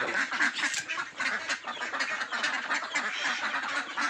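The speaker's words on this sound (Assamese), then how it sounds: "হাঁহকেইটা হাল্লা কৰি আছে" A flock of farm ducks quacking loudly and continuously nearby, overlapping calls with no pauses.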